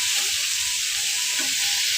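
Sliced bitter gourd and potato fry in hot oil with a loud, continuous close-up sizzle, plus occasional soft scrapes from stirring in the pan.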